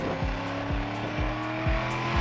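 A supercar engine with a new exhaust revs repeatedly in short rising bursts, not to high RPM, a rhythmic roar with exhaust rumble, steady and close throughout.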